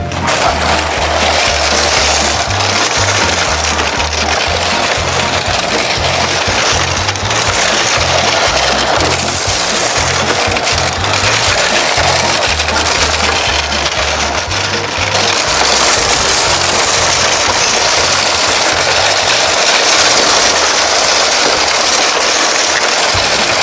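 A Tamiya XV-02PRO RC rally car runs continuously, its electric motor whirring with a gritty rumble of tires over rough ground, loud and close throughout with shifting intensity.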